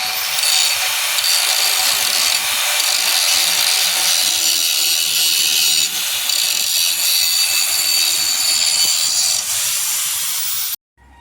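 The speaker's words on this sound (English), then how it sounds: "I'm going to try to grind the rest of this undercoating off and prep the surface for welding" An angle grinder strips undercoating off a dump truck to prep the metal for welding, a loud, close, continuous harsh grinding whine that runs steadily for about eleven seconds before cutting off abruptly.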